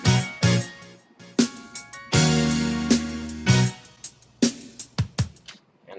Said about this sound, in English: I went ahead and enabled a ping pong delay to kind of fill up the space